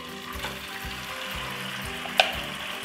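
Chicken coated in chow mein sauce frying with garlic in a pan, a steady close sizzle with a soft scrape or clink of a utensil near the end.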